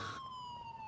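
Police siren in Grand Theft Auto IV with the LCPDFR police mod, a steady, slightly falling electronic wail that is faint and distant behind low road noise.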